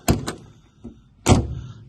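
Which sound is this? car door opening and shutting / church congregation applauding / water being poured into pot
car door opening and shutting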